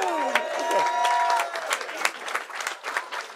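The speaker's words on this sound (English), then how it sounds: "Give him a round of applause, everybody." An audience breaks into applause at a live show, dense clapping that begins under a voice and then continues alone, with a few sharper claps standing out.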